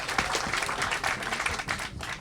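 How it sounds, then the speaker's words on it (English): Audience applause rewards a questioner at a book talk, a dense burst of many hands clapping that stays fairly loud and even throughout. "Give the man a round of applause."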